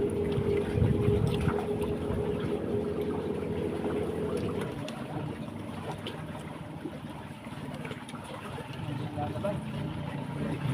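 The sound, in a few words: fast boat moving on the sea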